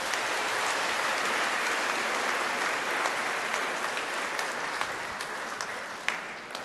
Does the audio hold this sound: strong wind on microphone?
no